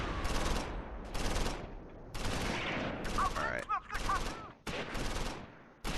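Heavy gunfire in the Close Combat IV war game during a forest fight at Losheim comes in repeated loud volleys of rapid shots, separated by short pauses.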